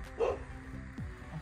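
A guard dog on a nearly deserted island with an abandoned resort gives a single sharp bark, followed by a faint yip, at moderate distance amid quiet outdoor background.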